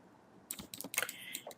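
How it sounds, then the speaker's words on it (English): Quick burst of typing on a computer keyboard, a dozen or so crisp close key clicks in an uneven run after a moment of quiet. "I want you to see how I'm typing this."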